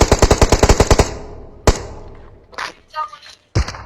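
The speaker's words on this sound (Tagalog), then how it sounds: "Nagpaputok agad ng sniper si Kanor" Rapid burst of about nine loud sniper rifle shots in a video game, followed by a single heavier shot and scattered fainter impacts and clatter, with no talking over them.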